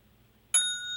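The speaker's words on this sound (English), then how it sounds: "like a boxing ring bell" A single bright metallic ding of a boxing ring bell rings out after half a second of quiet, then its clear tone hangs and slowly decays.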